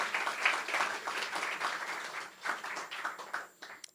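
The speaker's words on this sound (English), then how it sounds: "You can wait for applauding until the end if you think I'm still worth it" An audience at a book launch reading claps in a steady patter of applause that swells and thins over a few seconds, with a few brief murmurs underneath.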